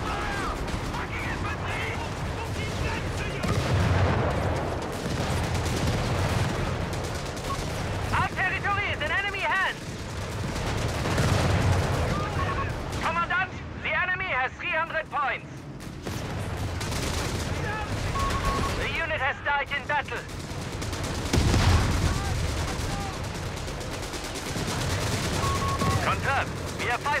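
Continuous gunfire, machine-gun bursts and artillery blasts in the World War II strategy game Company of Heroes 3, dense and loud throughout, with shouted unit voice lines breaking through the battle noise.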